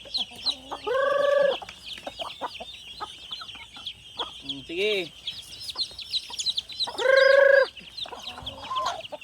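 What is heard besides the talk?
chickens clucking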